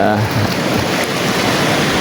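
Sea waves wash steadily against an island shore in the early morning, a loud continuous surf roar with wind buffeting the microphone and no break.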